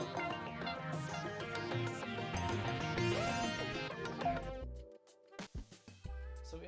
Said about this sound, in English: Here's what all those synth layers sound like.